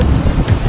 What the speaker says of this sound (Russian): Океан!